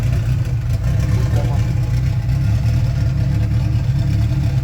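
A Volkswagen VR6-swapped car engine, running on a race fuel mix, idles with a loud, steady low rumble that holds at an even level for the whole stretch.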